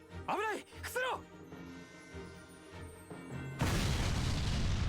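In Valkyria Chronicles 4, a deep boom bursts out as a howitzer explodes after a couple of brief tonal calls, leaving a loud, rumbling blast of noise that lingers.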